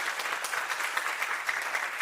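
An audience at a panel discussion on territory and community communication applauds, a dense, steady wash of many hands clapping at even loudness throughout, with no voices standing out.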